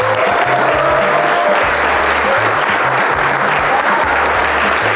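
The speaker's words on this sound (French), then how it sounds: "On l'applaudit, Ava." Large audience of about a hundred people applauding loudly and continuously as a young girl is welcomed, a thick wall of clapping with faint voices beneath it.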